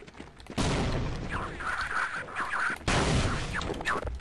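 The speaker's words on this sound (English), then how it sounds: "With this one, I'll just get rid of it with a trip mine." In the video game Half-Life, a trip mine blows up on a snark, two sharp loud bangs a couple of seconds apart over busy game noise with chirping creature sounds.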